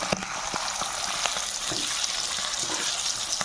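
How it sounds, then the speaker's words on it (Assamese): Chicken pieces seasoned with turmeric and salt fry in a covered pan, giving a steady, close sizzle with scattered small pops throughout. "মাংস ফ্ৰাই হৈ গৈছে।"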